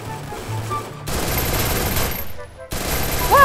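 Gunfire in the mobile shooter game Free Fire comes as dense sustained automatic bursts with a short gap, loud and continuous, with a brief tonal game cue near the end.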